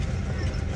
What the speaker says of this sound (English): We got the horse-drawn buggy.